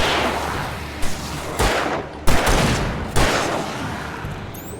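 Gunfire in the video game Alan Wake Remastered, with a few sharp loud shots and booms spaced about a second apart over a dense, noisy game soundscape.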